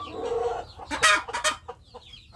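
Free-range village chickens near a nesting area cluck while feeding, several short close calls and scratchy peeps in quick, uneven bursts over a quiet background.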